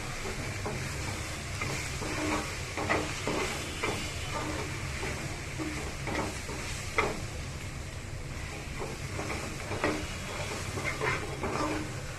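Spices frying in oil for egg curry are stirred in a pan, a continuous close sizzle with soft, repeated scraping strokes of the spoon.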